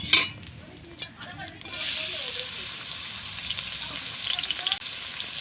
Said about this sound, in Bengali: চাউমিনটা বানানোর জন্য এখানে আমি সবজিগুলো প্রথমে ভেজে নেব